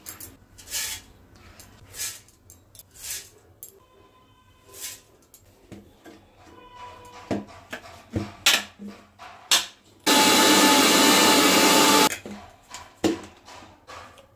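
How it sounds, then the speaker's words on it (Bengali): A mixer grinder whirs loudly for about two seconds, grinding roasted puffed rice into flour, following clattering and tapping as the jar is loaded. "ভেজে নিয়েছি খইগুলো, এখন মিক্সারতে আমি দিয়ে দিচ্ছি।"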